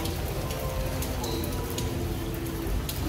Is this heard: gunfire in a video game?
no